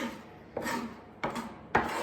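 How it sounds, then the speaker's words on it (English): A knife chops raw garlic on a board, giving three distinct, close thuds with a brief rasping scrape after each, spaced at uneven intervals against a quiet kitchen. "chopping that down nice and small"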